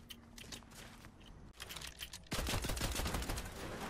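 Gunfire in the Fortnite video game (Chapter 5 Season 3): scattered quick shots at first, then a dense, loud, rapid burst of automatic fire with clattering detail.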